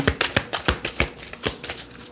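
An oracle card deck being shuffled by hand, a quick run of crisp riffling snaps and slides repeating about every quarter second, close and clear with no talk.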